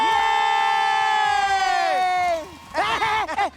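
A drawn-out voice rings out, then a crowd of children cheers and claps in a short, loud burst at close range.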